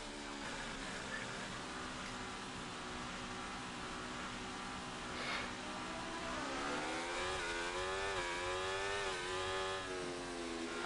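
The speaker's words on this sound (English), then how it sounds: "There's a Ferrari on a hot lap behind me" Ferrari Formula 1 car on a hot lap in the racing game F1 24, engine whining under a steady background hum, its pitch climbing and shifting through gears as it accelerates past at moderate volume.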